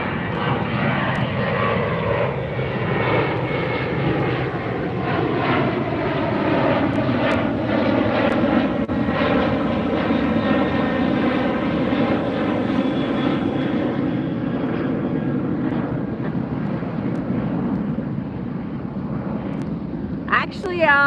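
A Norse airliner departing LAX gives a loud, sustained engine roar with shifting tonal whine as it passes and climbs, with voices talking over it.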